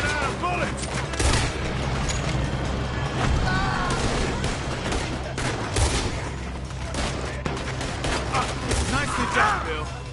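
A frantic Red Dead Redemption 2 shootout with repeated gunshots cracking and booming over a constant roar of game noise, while voices talk underneath.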